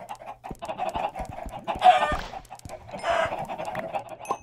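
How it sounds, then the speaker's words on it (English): Chickens cluck in a cave in a blocky survival video game, a steady run of short clucks with a couple of louder squawky bursts, fairly close and with no talk over them. "here's some cave chickens"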